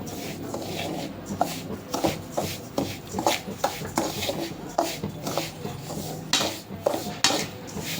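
A sweet mixture is stirred as it fries in ghee. A metal ladle scrapes and clinks against the pan in uneven, closely spaced strokes, near and moderately quiet, with no clear sizzle.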